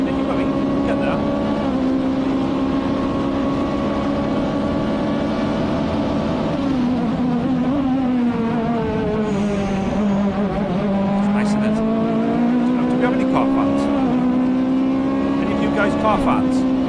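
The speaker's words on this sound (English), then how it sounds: "Loud cars, loud bikes going fast." Loud cars and motorbikes speed past, their engines forming one continuous roaring drone whose pitch sweeps up and down as they accelerate and pass, steady and prominent throughout.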